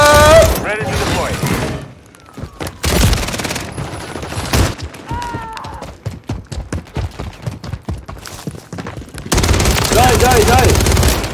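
Bursts of automatic gunfire and rapid shots from the Call of Duty Modern Warfare 3 video game, loud clustered volleys with a short lull, some shouting voices mixed in.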